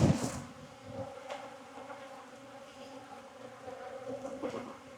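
Steady buzzing of honey bees close by in an apiary, a low droning hum with a few louder passes near the start, continuous throughout.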